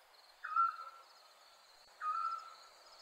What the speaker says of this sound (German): Tönt irgendwie wie ein Tropenvogel, also nicht ein heimischer.